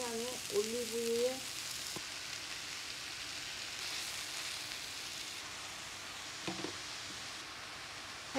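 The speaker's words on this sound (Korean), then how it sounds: "여기에다가 간단하게 썰어 놓은 버섯들을 넣어서 볶는 겁니다" Sliced mushrooms fry with garlic in olive oil in a pan, giving a steady soft sizzle throughout with a few brief clatters and a short voice at the start.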